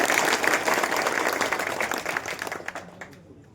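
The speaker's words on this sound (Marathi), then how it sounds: "वाजवा बरं टाळ्या, खऱ्या खोट्या" A crowd at a rural election campaign rally claps on request, a loud dense burst of applause that thins into scattered claps and fades out within a few seconds.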